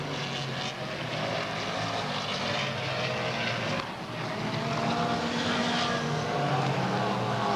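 Race cars roaring past the flag stand at a short oval speedway, a steady loud engine drone with swelling passes and no talk over it.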